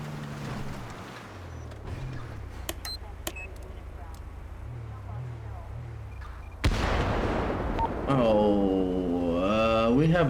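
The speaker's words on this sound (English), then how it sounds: "We have explosions." Explosions in the police video game FIVEPD as a tank drives down a road, a continuous roaring rumble with sharp bursts and a sudden loud blast partway through, followed by steady heavy noise.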